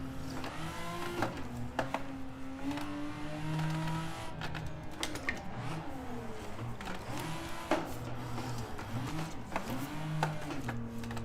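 Car engine in a VR driving game on an Italian-themed map, its tone rising and falling steadily as the throttle is worked, with a faint tire or mechanical whine layered over a continuous mid-level drone, no speech.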